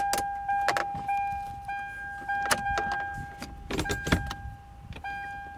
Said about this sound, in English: So now I'm gonna go ahead and put my key in and make sure everything shifts just fine.